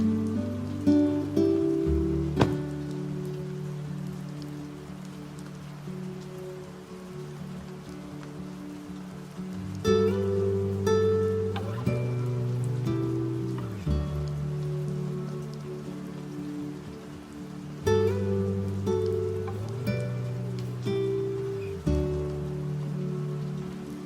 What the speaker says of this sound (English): As the rain falls, I'm unloading each board one by one,